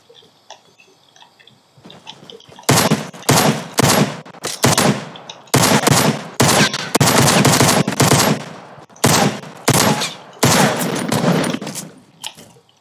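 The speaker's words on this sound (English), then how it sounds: "That's a hand cannon." Hand cannon gunfire in the video game Fortnite: a series of loud, sharp reports in quick bursts after a quiet start, with brief gaps between volleys and no talking.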